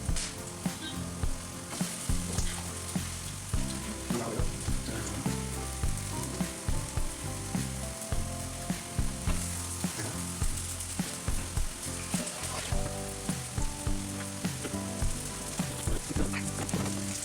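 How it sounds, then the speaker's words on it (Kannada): Soya chunk protein cutlets frying in a pan until golden brown, a dense, continuous sizzle and crackle at close range, overlaid by rhythmic music beats. "ಮೇಲ್ಗಡೆ ಕ್ರಿಸ್ಪಿಯಾಗಿ ಒಳಗಡೆ ಸಾಫ್ಟಾಗಿ ಗೋಲ್ಡನ್ ಬ್ರೌನ್ ಬರೋವರೆಗೂ ಇದನ್ ನು ಚೆನ್ನಾಗಿ ಫ್ರೈ ಮಾಡಿ."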